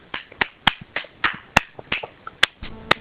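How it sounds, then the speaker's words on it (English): A small group clapping in a sparse, uneven rhythm, a dozen or so crisp, close individual claps rather than a full crowd. "Ladies and gentlemen, round of applause."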